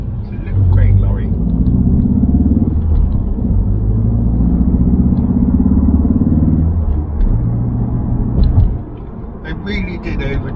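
A Ford Focus ST Mk4 heard from inside the cabin, its synthetic engine note a steady low droning rumble that holds for several seconds, dips briefly, then fades toward the end.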